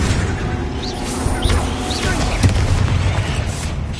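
A Confringo blasting spell bursts in Hogwarts Legacy amid heavy continuous booming rumble, with short whooshing chirps and a sharper hit near the middle, all loud and close.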